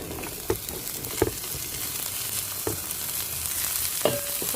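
Cauliflower frying in butter with ginger and onion in a pan gives a steady close sizzle, broken by a few clicks and scrapes of stirring, with no one talking.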